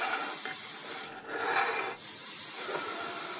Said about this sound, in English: you're just going to lightly spray the apples